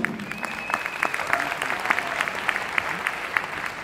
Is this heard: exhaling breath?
no